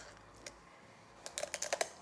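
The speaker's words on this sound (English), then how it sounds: "it's a bit of a satisfying sound, crunching bones" Sharp kitchen scissors crunch through raw chicken bones, starting with a faint snip and then a quick run of crisp, brittle cracks and snaps close up in the final second.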